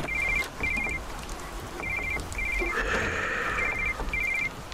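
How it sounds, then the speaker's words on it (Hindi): A telephone rings in a horror video game, giving repeated short electronic ring bursts in a steady on-off rhythm over a soft, rain-like hiss in the background. "भाई टेलीफोन बज रहा"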